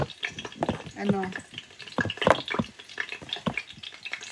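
Eggplant wrapped in beaten egg fries in oil, giving scattered crackles and splatters alongside stirring and liquid clinks, close and fairly quiet.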